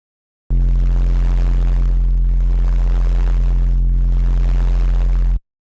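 Noise bass synth tone, played once without and once with equalization: a loud, sustained, buzzy bass drone holding steady for about five seconds with a hissing, gritty upper layer that swells and dips slightly midway.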